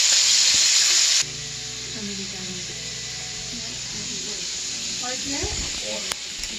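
Bacon frying in a pan fills the scene with a loud, hissing sizzle that drops to a quieter crackle partway through, with faint voices and kitchen clatter underneath.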